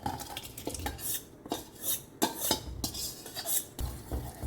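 A spoon stirs cooked chana dal into thick sabudana kheer (Goan mangane) in a pot, giving repeated soft scraping strokes and several close metallic clinks against the pan.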